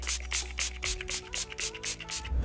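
A Too Faced Hangover setting spray bottle is pumped repeatedly, about ten quick hissing bursts in an uneven rhythm, close and fairly quiet.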